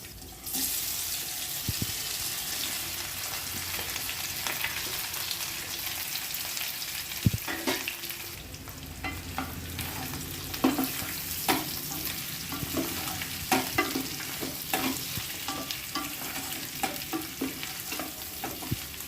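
Potato pieces fry in hot oil with curry leaves and garlic, a loud continuous sizzle and crackle broken by repeated clatters of stirring throughout, with no speech.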